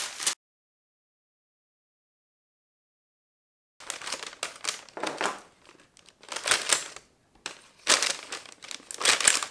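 Kraft paper being crumpled by hand, several crisp bursts of crinkling and rustling close up after a brief silent gap, growing louder and more frequent toward the end.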